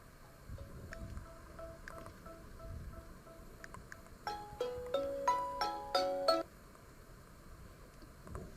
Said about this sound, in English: that alarm's about to go off any second